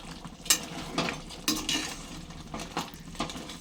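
Spices, cumin powder and coriander powder, stirred into a Telugu-style crab curry (pulusu) in a pan, with a spoon scraping and clinking against the metal in a few uneven strokes, close and moderately quiet, no voices.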